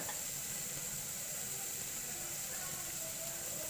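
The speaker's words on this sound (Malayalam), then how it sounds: "വെളിച്ചെണ്ണയിൽ ഇട്ടിട്ട് ഒന്ന് വഴറ്റി കിട്ടാം" Bitter gourd sautéing in coconut oil in a pan, a steady soft hiss of frying that runs evenly throughout without pauses or voices.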